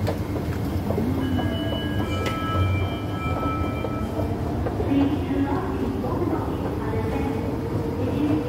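MRT train running at Novena station, a steady low rumble with faint squeals and clatter throughout, voices murmuring underneath.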